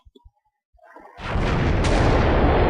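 A conventional missile in the Minecraft Voltz mod is launched after a few faint clicks and hisses, then erupts into a loud, steady roaring rush of thrust that swells and holds to the end.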